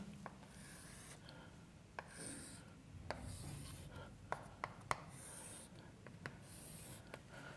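Chalk or marker scratching across a board in short strokes, drawing a five-sided figure, with faint tapping contacts and quiet room noise between strokes, no talking.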